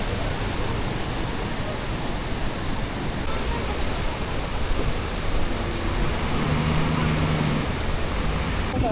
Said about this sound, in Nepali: झर्ना माथिबाट झरिरहेछ यो साइडमा त्यहाँबाट झरेको यो पनि एकदम ठुलो झर्ना रहेछ